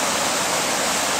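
Loud, dense rushing of high river water swirling through a whirlpool over bedrock, a steady roar without gaps or voices.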